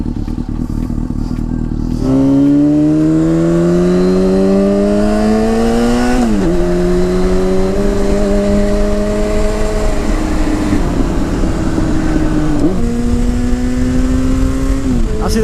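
A Yamaha FZ6 S2 motorcycle engine revs loudly and close, its pitch climbing in several long pulls and dropping between them, with no talking.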